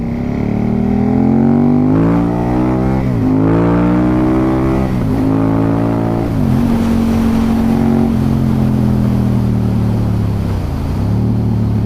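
A loud, close engine drone comes from an Aprilia sports motorcycle being ridden. Revs climb and drop through several gear changes over about twelve seconds.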